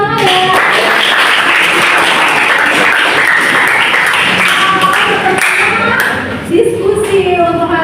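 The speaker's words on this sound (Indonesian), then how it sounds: "kita beri tepuk tangan ya." A classroom full of students applauds after a discussion presentation, loud and dense clapping that fills the room for about six seconds before thinning out into scattered claps and voices.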